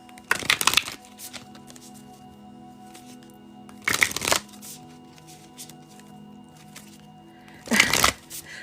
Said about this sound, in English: I'm gonna finish shuffling these cards before I jump back over there.